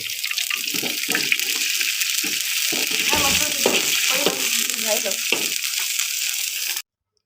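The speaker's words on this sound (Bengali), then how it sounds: "সামান্য একটু পানি এড করে নেব।" A splash of water hits a hot pan of browning onions and sets off a loud, steady sizzling hiss that runs unbroken for about seven seconds before stopping abruptly, with a voice speaking underneath.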